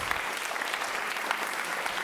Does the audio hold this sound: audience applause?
yes